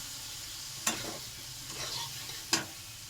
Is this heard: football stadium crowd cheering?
no